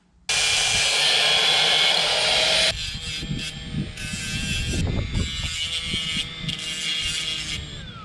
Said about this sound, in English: I need to cut this to length. So I'm just gonna slice that